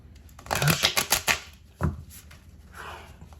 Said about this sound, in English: Just kind of want to give these a really quick shuffle